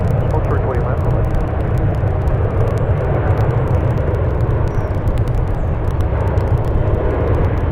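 Airliner on the runway at San Francisco International Airport, a loud continuous jet engine roar, steady and close, with faint air traffic control radio chatter in the background.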